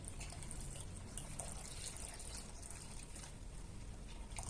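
Hot water is poured into a homemade liquid soap mixture, giving a soft, continuous splashing hiss that is fairly quiet and steady throughout.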